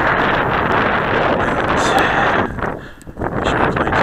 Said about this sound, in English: The wind's blowing right straight from about right there.